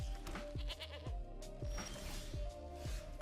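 Goat bleating effect in a card-draft video game, heard as several short, loud, rhythmic bleats in quick succession over a steady musical drone, with no talking.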